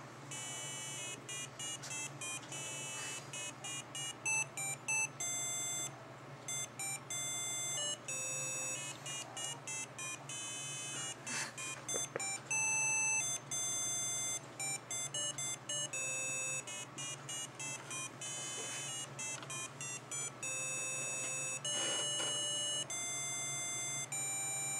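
A homemade keyboard-driven digital synthesizer plays a steady run of bright electronic beeping notes across several octaves, with a continuous low hum underneath and no talking.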